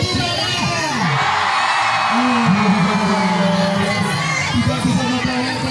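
A large outdoor crowd at a police-hosted folk market and arts show yells and cheers, with many voices and children's shouts swelling together in a continuous loud roar.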